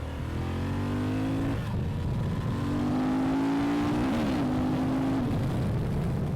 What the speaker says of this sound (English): Honda has done its homework and has given us a very nicely sounding exhaust on the Transalp